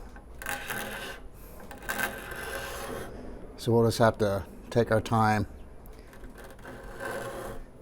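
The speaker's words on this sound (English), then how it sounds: "I'm scraping the shellac off with the curvature of this old molding plane" Raspy scraping strokes of an old molding plane scraping shellac off the wood of a 1940s–1950s RCA Victor radio in repeated passes, with a person speaking briefly in the middle.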